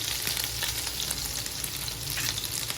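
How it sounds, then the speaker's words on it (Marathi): Garlic, chili and potato crackle steadily in hot oil, a dense continuous sizzle heard up close and alone. "मिठ तर तेलामध्ये आपण टाकतोय लसूण मिरची आणि आलू"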